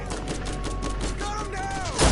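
Gunfire in Borderlands 1, a dense rapid burst of game shots running continuously, loud and close, with a heavier blast at the end.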